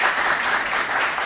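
Brief burst of audience applause for jury members at a Haitian school quiz competition between two lycées, a dense, even patter of many hands that fills the short moment with no voices on top.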